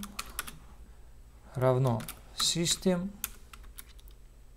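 Code is typed on a computer keyboard in a series of close, crisp key clicks, starting sparse and ending in a quick burst, under someone speaking Russian.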